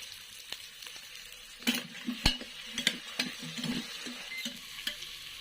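Onion and tomato sauté in a pan, with a soft background sizzle and a cluster of sharp spoon strikes and scrapes in the middle, fairly quiet and with no voices.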